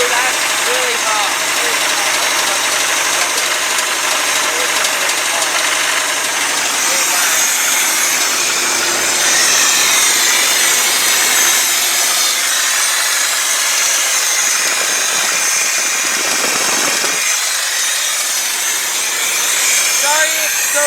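Engine of a 1989 Ford F250 service truck running after sitting abandoned for four years, a loud rough putter and idle close by, with someone talking over it.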